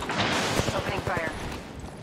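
Rapid bursts of gunfire in Apex Legends, a string of sharp repeated shots in quick rhythm that fade toward the end, with game sounds around them.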